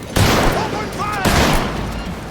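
Gunfire erupts in the Cyberpunk 2077 video game, two dense bursts of loud rapid shots with brief voice-like calls between them, close and heavy.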